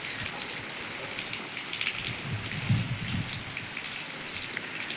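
Light rain falls steadily in an even, continuous patter of drops close by, with no voices.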